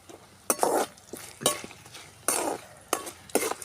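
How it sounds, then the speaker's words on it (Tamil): Chana dal frying in oil in a pan for lemon rice, close and moderately loud, with bursts of sizzling and spoon stirring scrapes that come and go in irregular pulses and brief clinks against the pan, no voices. "நல்லா பொரியிட்டு கடலை பருப்புலாம் பொரியிட்டு"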